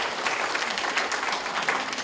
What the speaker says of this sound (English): could I have all of the band students and choir students please give a round of applause to your parents for